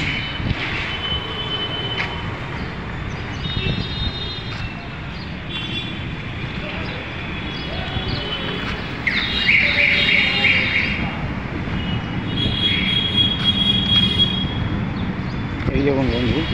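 A metro train runs along a line beside a flyover in a Bengali city street, its wheels rumbling and squealing in a steady roll that swells louder near the end, with a person talking over it.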